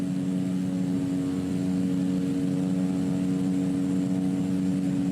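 Steady airplane engine drone from an aircraft in flight in the Microsoft Flight Simulator 2020 video game, touring the Bavarian Alps. A continuous, even hum runs loud and unbroken throughout, with no talking over it.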